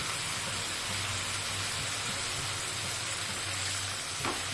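Sugar water boiling in a pot on the stove, a steady soft bubbling sizzle that runs through without pause, fairly quiet and close, with no voices.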